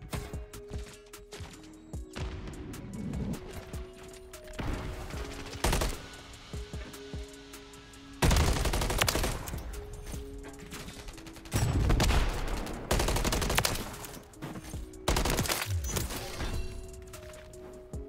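Gunfire in the video game Call of Duty MW3, bursts of automatic rifle fire and sharp single shots coming in clusters, some loud and close and others quieter, with pauses between exchanges.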